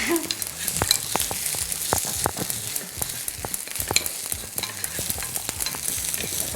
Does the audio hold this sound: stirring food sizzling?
yes